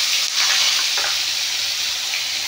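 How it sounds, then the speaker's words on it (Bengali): Onion frying in a pan with dried red chili, bay leaf, cumin and five-spice gives a loud, steady sizzle, with a few scraping stirs near the start. "পেঁয়াজটা একটু ভালো করে ভেজে নেব।"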